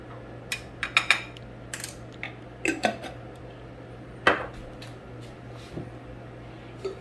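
A spoon taps and clinks against a metal pan while garlic ginger paste is added, giving a few sharp, scattered knocks over a quiet background; nobody speaks.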